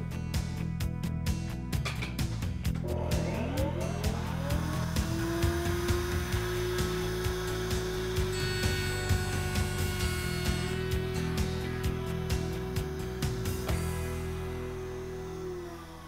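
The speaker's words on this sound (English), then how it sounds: "So in the router table, I've installed a 1/4-inch rabbeting bit" A router table cuts a rabbet with a 1/4-inch rabbeting bit raised 1/4 inch, giving a loud, continuous whine that climbs as the motor spins up and then holds steady before easing off at the end.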